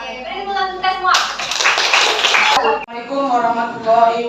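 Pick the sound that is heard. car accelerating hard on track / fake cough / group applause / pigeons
group applause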